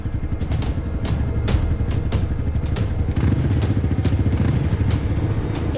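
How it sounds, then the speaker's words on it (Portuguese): A courier's motorcycle idles with a loud, rough, close engine rumble while scattered clatter and thumps suggest someone mounting the bike. "Motoboy sobe na moto."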